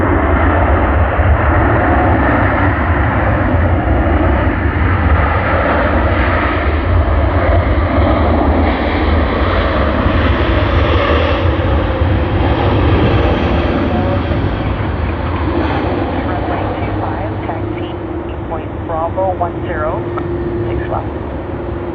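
Boeing airliner engines rumble and roar steadily at close range on the apron at Sydney Airport, a broad continuous drone that eases slightly near the end while a voice talks faintly underneath.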